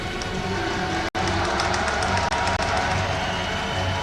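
Audience applause at a StarCraft Premier League tournament, a dense, steady wash of many hands clapping that fills the hall, with one sharp dropout partway through.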